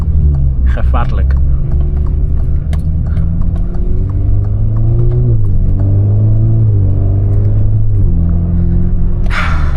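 An Alfa Romeo Giulia 2.0T turbocharged four-cylinder revs hard while driving, its loud engine note climbing and dropping in pitch through several gear changes over a steady road rumble.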